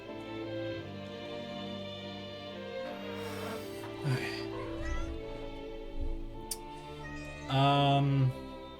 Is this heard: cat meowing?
yes